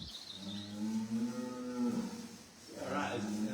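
Bulls on a farm give a long, deep moo that swells and fades, followed by a second call starting near the end, close by and alone without talking.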